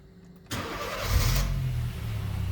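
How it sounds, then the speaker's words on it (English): A car engine is started: a short cranking burst, then the engine catches and settles into a steady idle, close by and alone. "now I'm going to start the engine"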